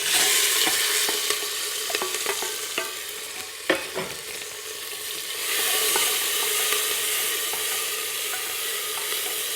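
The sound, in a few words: tomatoes and chili sizzling and stirred in hot pan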